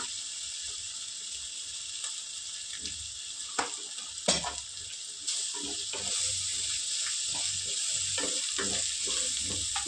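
Curry leaves and turmeric sizzle in hot oil in a frying pan, a steady bright hiss that jumps louder partway through, with a few sharp clatters and stirring scrapes from a spoon.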